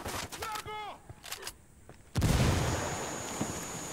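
A frag grenade detonates in the video game Ghost Recon Wildlands, a sudden loud boom that decays into a rumbling tail, following brief speech and clicks.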